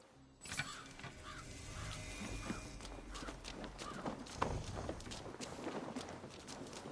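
Horses' hooves clip-clop in the video game Assassin's Creed Valhalla, a steady trotting patter close by set against a dense outdoor game soundscape.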